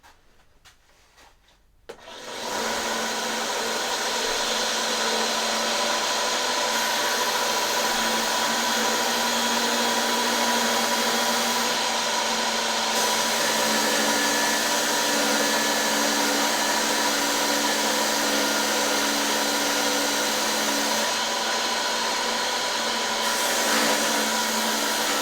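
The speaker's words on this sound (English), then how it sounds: "I've got my little sander over here." A small electric sander works a junk guitar part, starting abruptly and then holding a loud, steady whirring hiss close by for over twenty seconds with slight shifts in pitch.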